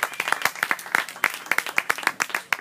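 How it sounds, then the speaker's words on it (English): Audience applause at a small community theatre, a steady patter of many hands clapping at close range, the claps uneven and overlapping throughout. "So give them a round of applause for all things."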